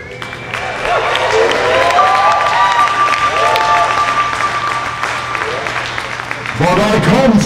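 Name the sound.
audience applause at a live stage show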